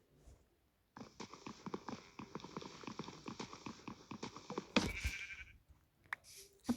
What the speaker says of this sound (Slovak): A potrebujeme ovce. Čujem tu ovce.